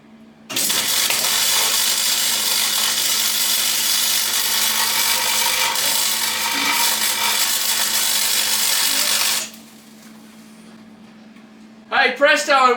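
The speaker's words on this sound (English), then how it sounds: "Been a while since I've done some welding." Arc welder powered by a Jackery Solar Generator 2000 Plus, a loud steady crackling hiss sustained for about nine seconds, then cutting off to a quiet hum before a brief voice near the end.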